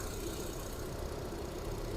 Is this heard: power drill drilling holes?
no